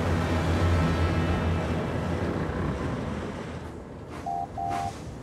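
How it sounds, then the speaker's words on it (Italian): Strong wind roars and buffets steadily in a cartoon, with surf-like rushing underneath and a couple of brief tonal beeps near the end. "Il vento si sta facendo sempre più forte"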